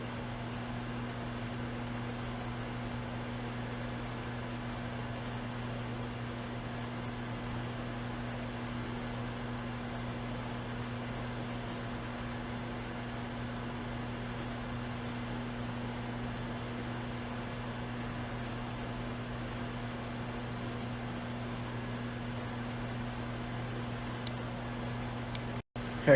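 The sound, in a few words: microwave oven running while cooking a maple nut icebox pie filling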